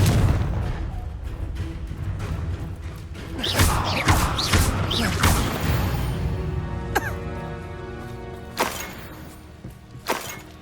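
A Confringo fire spell cast in Hogwarts Legacy, several sharp blasting cracks and shattering bursts in quick succession amid game ambience, followed by a few more isolated impact hits.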